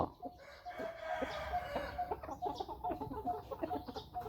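A Burmese-type fighting rooster crows nearby in a drawn-out call, with clucking and other fowl sounds around it, close and fairly clear with no talk.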